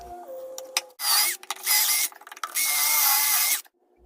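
Pocket holes being drilled into wood pieces for the legs of a table saw stand, heard as loud whining bursts of drilling close by, separated by brief clicks and pauses.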